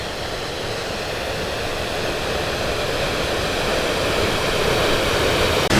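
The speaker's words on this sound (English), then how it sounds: "Always mesmerizing waterfalls, don't you think?" Sol Duc Falls, a waterfall in Olympic National Park, roars with a steady, broad rush of falling water that holds at an even loudness throughout, with no voices.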